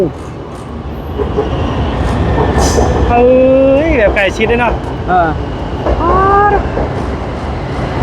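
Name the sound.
train passing on railway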